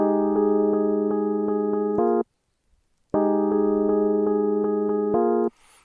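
A synth plays a steady rhythm of repeated short notes on one pitch, stops briefly, then resumes the same pattern.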